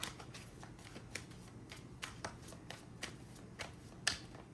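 Tarot cards are shuffled by hand in a quiet room, with a steady run of soft riffling and slapping bursts, one sharper snap near the end.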